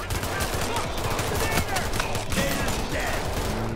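Gunfire in the video game Payday 3 crackles in rapid bursts of shots, dense and continuous over a busy game background.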